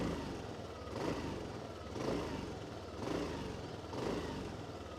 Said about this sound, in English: It comes to life without too much of a mechanical sound and you straight away get to hear this exhaust sound.